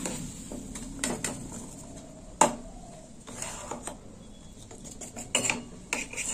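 Spoon scraping and clinking in a pan while poppy seed paste is stirred in for a tilapia curry, soft intermittent scrapes with a few sharper knocks, close and quiet.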